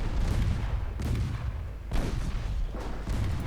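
A torpedo strikes a warship in the naval battle game Ultimate Admiral: Dreadnoughts, 1913 Norwegian campaign: deep rumbling explosions roll one after another, loud and continuous, with no talk over them.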